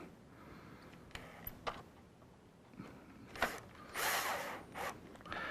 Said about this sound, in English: I'm going to go ahead and put my screws into place here. And drive them on home.